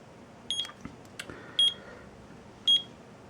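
Three short, high electronic beeps from an ST8020 alarm clock's countdown timer, spaced about a second apart, with faint clicks between them in a quiet room.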